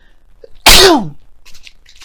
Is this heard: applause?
no